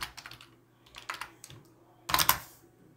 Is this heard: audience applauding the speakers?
no